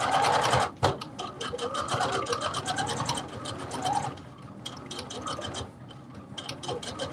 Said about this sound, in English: What you see me doing is sewing the interfacing on to the actual fabric.